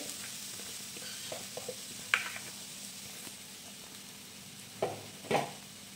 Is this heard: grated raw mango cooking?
yes